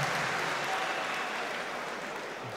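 A darts crowd cheers and applauds continuously at a German Darts Championship match, a dense, loud wash of clapping and shouting throughout.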